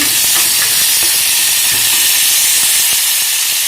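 Fresh coriander and mint leaves fry in a hot pan with a loud, continuous sizzle and hiss, with faint stirring clicks underneath and no talking.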